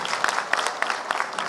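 Applause at a political gathering where a senior Congress leader joins the BJD, a steady crackle of clapping from an audience, moderately loud with a few sharper bursts.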